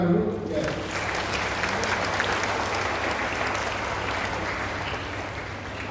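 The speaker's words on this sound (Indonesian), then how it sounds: "Kita tepuk tangan dulu, ya." Church congregation at a parish anniversary mass applauding the choir, a loud, steady burst of many hands clapping filling the room from start to finish.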